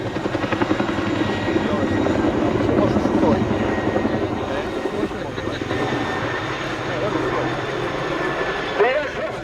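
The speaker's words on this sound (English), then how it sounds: "The aircraft now moves away to our right and pulls up going off set wing over." A display helicopter flying at the Royal International Air Tattoo air show, its loud continuous rotor and engine roar filling the whole stretch, with a public-address commentator talking over it.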